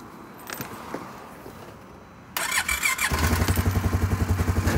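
Polaris Sportsman 570 ATV engine cranking and catching after a couple of seconds, then settling into a loud, steady, rhythmic idle close by, with no talk.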